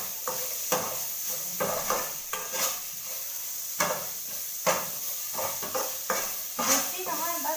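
Onions frying in a pan for chutney are stirred with a utensil in repeated scraping strokes, each clack and scrape close and distinct over a soft steady sizzle.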